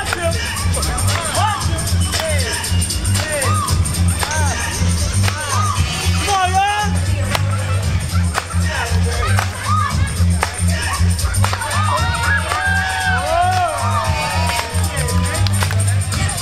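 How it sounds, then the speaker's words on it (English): A large arena crowd at a Philadelphia 76ers NBA game roars and cheers for the Sixers Dunk Squad, a steady dense hubbub with shouts running throughout and a voice talking over it. "I need y'all to clap your hands and put your hands together with the number one dunk team in the NBA."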